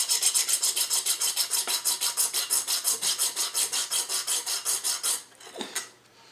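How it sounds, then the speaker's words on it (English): A copper penny being sanded by hand, a steady rhythmic rasp of strokes back and forth, close and fairly loud, for about five seconds before stopping, followed by a brief softer scuff. "Let me show you how I sand it."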